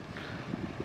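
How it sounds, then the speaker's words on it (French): Wind blows by the seaside at Mochimune, Japan, a soft, steady rush buffeting the microphone in a brief low gust with no talking. "Et là, il y a un petit vent très agréable."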